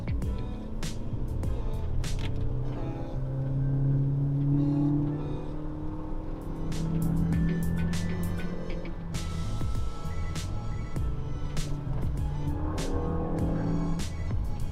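A Suzuki Grand Vitara's engine revs and accelerates, climbing high in pitch in rising surges with brief drops between, heard from inside the car with occasional clicks and clatter.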